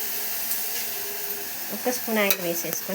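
Thinly sliced onions and green chillies frying in a spoonful of oil for an Andhra gongura dish, a steady close sizzle with brief stirring scrapes near the end.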